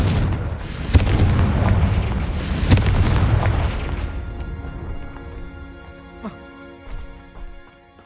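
Fiery Confringo blast spell in Hogwarts Legacy, a loud booming explosion up front with a second burst, then rumbling debris and ringing, sparkling tones fading out with small pops.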